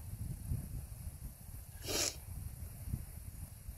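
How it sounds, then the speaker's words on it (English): A single short, sharp sneeze bursts out over a low, steady rumble of background noise. "we'll just sneeze already."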